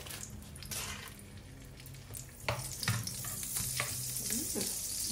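Butter melts and sizzles in a pan with olive oil, a close steady frying hiss with soft crackles and a few stirring scrapes, no talking.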